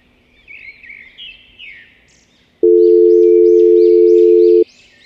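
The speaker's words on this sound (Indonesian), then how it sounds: "Sebentar, saya coba telepon beliau dulu." A steady electronic telephone tone sounds for about two seconds as a call is placed, preceded and followed by faint chirping birds in the background.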